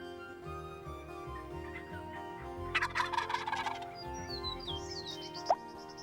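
A big bearded wild turkey gobbles from a field, one rattling burst at a fair distance, with faint chirps of small birds around it and quiet rustling.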